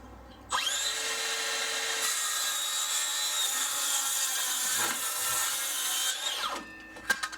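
Makita DHS680 18V brushless cordless circular saw spinning up and cutting through a board, a loud, steady high whine that holds for about six seconds before winding down, with a few clunks after.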